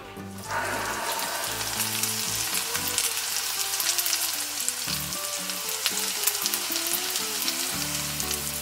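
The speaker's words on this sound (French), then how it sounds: "il faut vraiment laisser dorer au petit pain demi comme ceci avec le beurre" Banana slices frying in butter in a hot pan give a loud, continuous crackling sizzle close up, with faint clinks and scrapes underneath and no voices.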